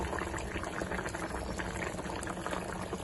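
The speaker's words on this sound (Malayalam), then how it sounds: "നമുക്ക് ഇനി ഇതിലേക്ക് വെളിച്ചെണ്ണ ഒഴിച്ചു കൊടുക്കട്ടോ" Coconut oil poured into a simmering Kerala-style red chilli fish curry, with dense bubbling and sizzling that stays constant and close throughout and no speech.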